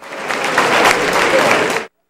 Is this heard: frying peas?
no